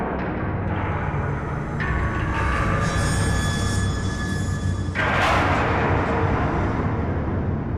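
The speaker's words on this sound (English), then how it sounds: "we also have horror accents." A horror accent sound effect from a music library: a dense, rumbling metallic grind with shrill squealing tones layered over it and a sudden harsh surge near the end, with no speech.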